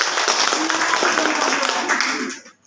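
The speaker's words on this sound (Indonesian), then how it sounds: "Tepuk tangan buat kelompok" A class applauds a student presenting group in a classroom, clapping hands in a loud, even burst that carries on for a couple of seconds, then quickly fades away to quiet.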